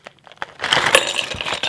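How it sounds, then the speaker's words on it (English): Ice cubes poured into a glass while making dalgona coffee, a burst of clinking and rattling that starts sharp and continues as a dense clatter for over a second, close and fairly loud. "Pour the ice."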